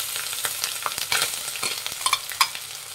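Ground sweet corn and grated ginger frying in a pan, with soft sizzling and crackling broken by irregular scraping strokes as the mixture is stirred close by.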